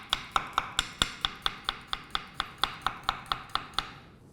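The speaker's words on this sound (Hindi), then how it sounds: "पतले पतले स्लाइस करने हैं" A knife cuts thin slices of cucumber on a board in about twenty crisp, evenly spaced taps at a brisk steady pace, close and clear, with no talk.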